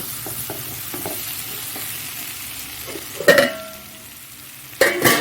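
An egg fries in a hot pan, a steady soft sizzle with small stirring taps and two louder bursts of metallic clatter and hiss, no talking.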